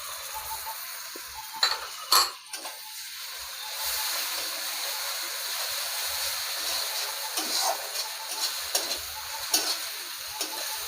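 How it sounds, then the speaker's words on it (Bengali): Garlic paste frying with onions in a pan, a steady close sizzle with intermittent scraping and clinks of a spatula stirring against the pan. "রসুনটাকে খুব সুন্দরভাবে ভেজে নেব।"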